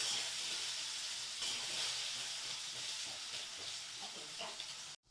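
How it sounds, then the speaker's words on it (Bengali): Taro and potato frying in oil in a kadai, a steady broadband hiss and sizzle running close and loud throughout with no talk, cutting off abruptly at the end. "এবার আমি কচু আর আলুটা ভালো করে ভেজে নেব লাল লাল করে"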